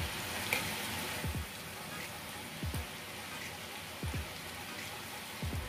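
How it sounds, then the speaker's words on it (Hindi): Thethri, a Western Odisha snack, frying in hot oil with a steady broadband sizzle, broken every second or so by soft low thumps and bursts of voice-like talk over the crackle. "ये जब तक गोल्डन कलर हो जाएगा तब तक हम उसको फ्राई करना है"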